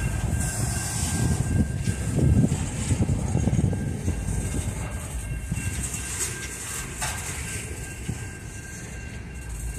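A BNSF coal train, locomotive 9253, rumbles past steadily in Effingham, Illinois for several seconds with a low, continuous roar and clatter that slowly eases off, no voices over it.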